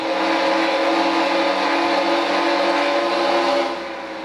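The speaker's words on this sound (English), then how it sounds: "Listen to those engines wind up." NASCAR race car engines winding up in a racing video game at the Fontana, California Auto Club track, a loud, sustained, droning whine of several cars at high revs that fades slightly at the end.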